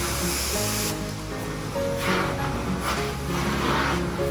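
Carpet cleaning wand spraying water at 500 psi over a rug, a steady, loud hiss that runs the whole time with slight surges.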